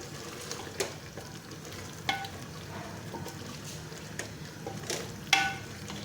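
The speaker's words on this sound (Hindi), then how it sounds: "और कचनाली को भी 4 से 5 मिनट अच्छी तरह से भून लेंगे।" Kachnar orchid tree buds frying with meat in a pan for kachnar gosht. A steady close sizzle runs throughout, broken by scattered clinks and scrapes of stirring.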